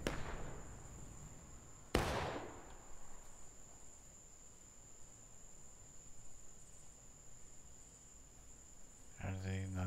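Musket gunfire in the Civil War video game War of Rights, a single sharp crack early on and a duller shot at the start, with faint distant popping, a thin steady whine and insect-like chirping in the background.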